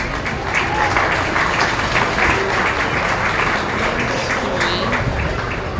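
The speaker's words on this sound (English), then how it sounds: "Let's give them a round of applause," Sustained applause from a crowd at a county fair cattle show, dense and steady throughout with no pauses, some faint voices mixed in underneath.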